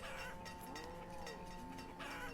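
Sheep and livestock in the farming game Banished give a short bleat among faint animal calls and clanking, set over a soft, steady game ambience.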